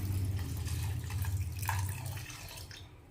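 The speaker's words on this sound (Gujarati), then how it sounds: "આ ચોખા અને દાળ બંનેને ધોઈ સારી રીતે" Rice and lentils are rinsed in water in a home kitchen before soaking for idli batter. Water splashes and trickles steadily but quietly, with no voices.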